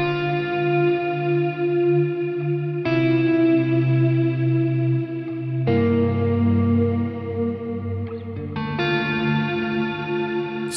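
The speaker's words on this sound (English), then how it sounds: "Let's take a listen at the sound I got out of this guitar." A Yamaha Pacifica Standard Plus electric guitar rings out sustained chords drenched in reverb and delay, four strummed changes blooming and washing into each other at moderate volume, with no talking.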